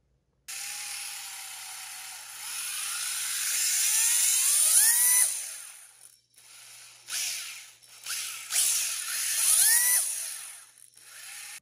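A TDP Pigeon RC car converted to belt drive runs with a quiet mechanical whir, rising and falling through two speed runs with short pauses between them, close by and alone.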